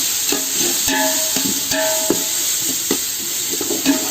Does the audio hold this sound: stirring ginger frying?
yes